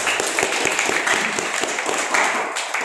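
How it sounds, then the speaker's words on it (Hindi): Dense applause from a crowd at a product training meeting, a continuous even wash of many hands clapping at steady loudness for a few seconds, with no speech on top. "मैं चाहूंगा एक बार जोरदार तालियां हो जाए।"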